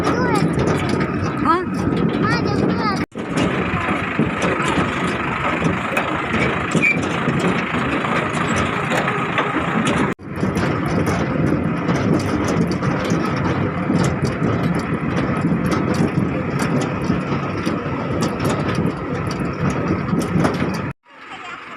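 A farm tractor engine runs continuously as a family rides home from the fields, a loud steady rumble with a few brief dropouts, and voices talking over it.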